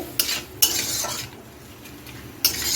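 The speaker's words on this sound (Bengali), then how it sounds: "টমেটোটা দিয়ে একটু কষিয়ে নিচ্ছি অল্প একটু নুন দিয়ে দিচ্ছি" Tomatoes being stirred and fried with a little salt in a pan, heard as scraping stirs with a few sharp utensil knocks against the pan over a low steady sizzle, close by with no talking.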